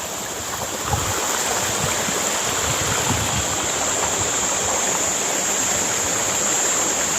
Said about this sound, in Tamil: தண்ணியோட சத்தம், காற்றோட சத்தம்